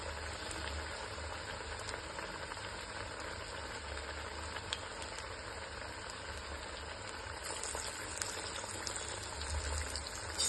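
A jaggery mixture boils in a pan with a continuous, even bubbling hiss that stays steady and fairly quiet, with no talking.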